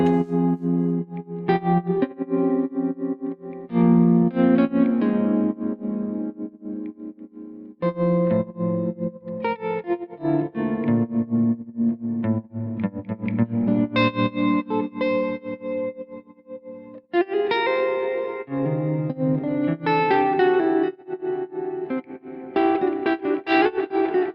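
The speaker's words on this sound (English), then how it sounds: "it's actually an erratic random tremolo" An electric guitar plays chords and phrases through an erratic random tremolo effect that pulses the volume in an irregular, stuttering pattern, with no voices.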